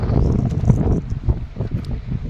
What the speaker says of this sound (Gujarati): હેલ્મેટ કાઢી નાખું તો હવા કેટલી આ ખબર પડી જશે જો કેટલી બધી હવા આવે છે